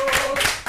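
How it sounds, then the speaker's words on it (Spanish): Brief clapping breaks out at a televised interview with an economist, a few quick hand claps heard close and fairly faint for under a second. "Sigamos con un fuerte aplauso"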